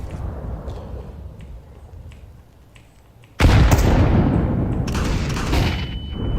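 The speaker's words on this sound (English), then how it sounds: "Flashbang out" A flashbang grenade detonates in a video game with a sudden loud bang, followed by a sustained ringing roar and scattered crackles after several seconds of quieter ambience.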